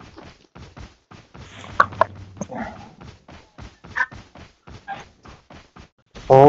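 A dog in a gangster video game yips and whimpers in short repeated bursts, fairly close and over a steady rhythmic beat.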